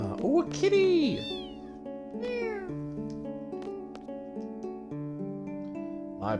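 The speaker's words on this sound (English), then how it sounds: "Oh, a kitty!" Cat meowing in a video game: a couple of quick, rising-and-falling meows near the start over soft sustained background music, with one more short meow at the very end.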